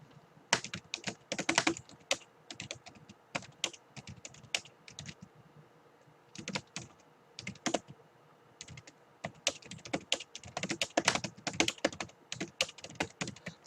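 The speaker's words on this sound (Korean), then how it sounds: "종이 출력 없이 여기다가 바로 타이핑하면 됩니다" Rapid typing on a computer keyboard while writing a short book report in a Google Docs window, with irregular bursts of clicking keys and brief pauses, close and alone with no talking.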